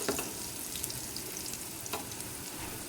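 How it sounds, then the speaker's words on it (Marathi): Bread masala patties, also called toast, frying in a pan and turned with tongs to brown the second side. A steady, close sizzle carries through the whole stretch, with a couple of brief scraping clicks and no voices. "आपण आता चिमट्याच्या साह्यानं दुसरी बाजू भाजून घ्यायची"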